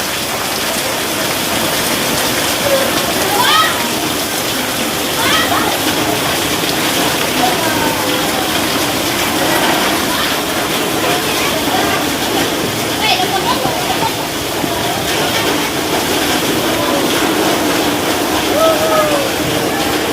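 Floodwater rushing through a street in Makassar after heavy rain overwhelms poor drainage, a steady broadband wash of flowing water and rain that holds constant and loud throughout, with faint chirps scattered over it.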